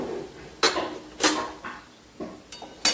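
A metal spoon strikes a pan while red chili powder is added to roasted ground peanuts for tomato chutney, four or five sharp clinks spaced out over a few seconds, close and clear with no talk.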